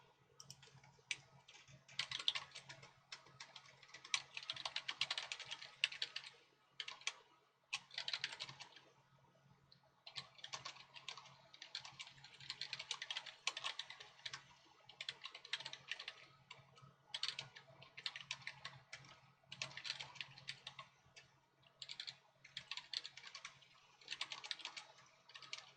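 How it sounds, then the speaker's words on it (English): Fingers type steadily on a computer keyboard while text is entered during setup for a live stream, giving quick soft clicks in bursts with short pauses, close and fairly quiet, with no talking. "I'm just typing it out."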